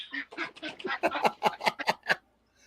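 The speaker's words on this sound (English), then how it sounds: "I hear them ducks." Ducks quacking in a rapid, uneven run of short nasal calls that come close together for about two seconds, then stop, leaving near silence with no talk.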